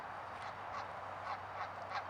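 A goose honks several times in repeated calls over a steady background hum, heard alone without talk.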